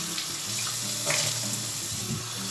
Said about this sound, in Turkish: Şu an elimi yıkıyorum.